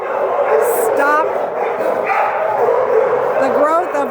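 Dogs bark and yip continuously at an animal shelter, a dense chorus of overlapping barks filling the space, with some voices mixed in.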